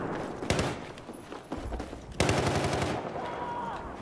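Rapid automatic gunfire and sharp single shots crack through a Battlefield 4 firefight on the Siege of Shanghai map, with loud bursts around the half-second and two-second marks and a dense volley continuing after.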